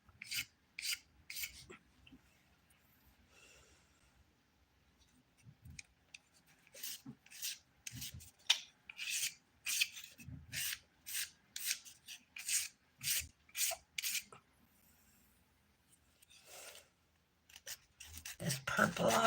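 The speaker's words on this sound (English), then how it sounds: "This file works really good. It's a 100 grit file." Acrylic nails being filed with a coarse 100 grit nail file, a run of quick, close rasping strokes in bursts, steady and rhythmic, with short pauses between sets and faint background noise.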